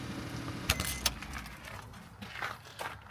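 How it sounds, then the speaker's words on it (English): Keys for a 2025 Mitsubishi Minicab 4x4 jangle in a few quick metallic bursts, close and fairly quiet, against a soft outdoor background. "let's get them keys out"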